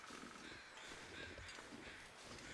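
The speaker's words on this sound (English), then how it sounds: "Hearing crows, so there's got to be something up here, right?" Crows caw in the snowy wilderness of the video game The Long Dark, harsh repeated calls layered over a steady windy ambience, faint and distant, with no talk.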